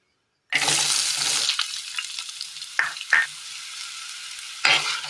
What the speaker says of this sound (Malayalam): ഈ എണ്ണയിലേക്ക് നമ്മൾ അരിഞ്ഞു വെച്ചിരിക്കുന്ന ക്യാരറ്റ് ഇട്ട് കൊടുക്കാം.